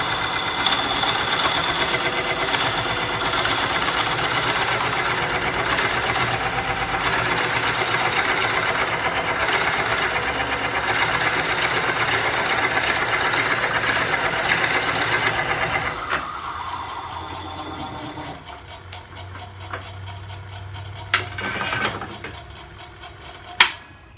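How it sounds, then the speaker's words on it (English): A wood lathe turns a camphor wood bowl at about 500 RPM while a 2-inch Forstner bit bores a recess, giving a steady mechanical whir and grind for about fifteen seconds before the machine quiets, leaving a hum and a few knocks. "We're turning about 500 RPM with a 2-inch Forstner bit."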